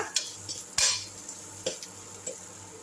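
Powdered dried anchovy being sautéed in a pan, heard as sparse scraping and clinking of a spoon against the metal at irregular intervals over a faint background hum, close and without talk.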